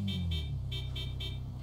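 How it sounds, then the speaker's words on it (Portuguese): Car horn from a tuned Volkswagen Voyage CL 1.8 turbo in the video game GTA V, five short evenly spaced toots sounding over a low engine rumble. "Deixa eu buzinar pra ele aqui, mano."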